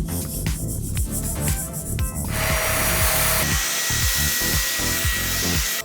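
A Eureka OmniVerse vacuum cleaner runs loudly on carpet: a constant motor whine and airflow roar, with rhythmic low thumps as it is pushed back and forth across the pile.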